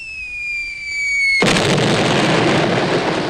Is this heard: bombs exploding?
yes